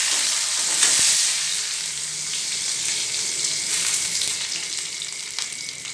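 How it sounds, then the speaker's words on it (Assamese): Browned onions and a bay leaf fry in hot oil in a pan, a continuous hissing sizzle close by with faint crackles, no voices. "পিঁয়াজখিনি ৰঙচুৱাকৈ ভাজি ইয়াতে মই তেজপাত পেলাই দি দিলোঁ।"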